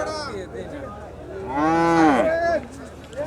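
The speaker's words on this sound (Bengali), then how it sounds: "এখানে একটা সুন্দর লাল একটা গরু আছে।" At a cattle market, a cow lets out one long, loud bellowing moo that swells and fades over a low steady hum, with quieter crowd noise before and after.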